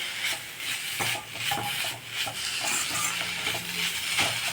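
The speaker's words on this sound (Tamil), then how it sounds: "ஒரு நிமிஷம் நல்லா வதக்கிட்டா இந்த எண்ணெயிலேயே அதுவும் ஃப்ரை ஆகிடும்" Ground spinach paste sautéing in oil, a continuous close sizzle with the steady scraping and rubbing of a spoon stirring against the pan.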